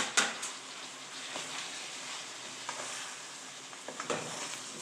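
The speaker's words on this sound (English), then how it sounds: "I'm adding my rice that I already cooked a little early on" Cooked rice goes into a pot of a Jamaican one-pot meal and is stirred, giving a steady close sizzle with soft scraping strokes and a few light knocks of the spoon against the pot.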